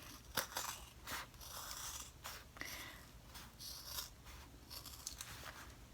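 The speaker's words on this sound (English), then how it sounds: "You need bulky scissors because you're cutting a lot of layers." Sharp, bulky scissors cut through several layers of fabric while a zippered bag with enclosed seams is made, giving a series of close, crisp snipping and rasping strokes at an uneven pace, with no talking.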